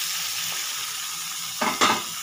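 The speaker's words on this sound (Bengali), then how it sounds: "চিকেনটা দিয়ে খুব ভালো করে কষিয়ে নেব" Chicken pieces and lightly browned onions fry with a steady sizzle in a pan for a chicken and potato curry, and a couple of stirring scrapes come near the end.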